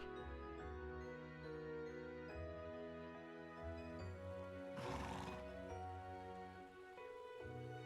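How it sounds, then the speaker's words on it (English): Horse neighing and hooves clip-clopping along a mountain path in The Legend of Heroes: Trails of Cold Steel II, with a sustained musical score playing throughout and a brief noisy burst midway. "After brushing Arthur and giving him all the care and adoration a horse could dream of, Rena and Eustace took him out onto the mountain path."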